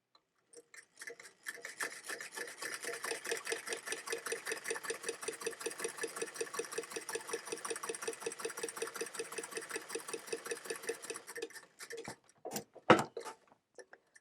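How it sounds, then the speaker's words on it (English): A sewing machine runs a steady stitching burst along the edge of fabric while sewing a dart, close rapid rhythmic clatter for about ten seconds, then stops with a few handling clicks and knocks. "at the very edge of that fabric and sew your dart"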